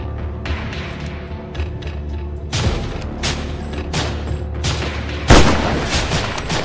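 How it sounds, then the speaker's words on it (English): Enemy artillery fire in the mobile shooter game Spider Hero Sniper Shooter, booming blasts and gunfire thudding repeatedly over a steady rumbling backdrop, with one loud close impact near the end. "Enemy artillery! Find them!"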